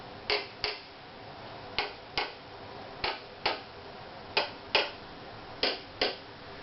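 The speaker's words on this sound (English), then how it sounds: "So I'll just tap these. I'll start on just the ribs." Light taps on the ribs of a varnished instrument, heard as ten crisp knocks in loose pairs, spaced evenly and close, with a faint room hiss between them and no talking.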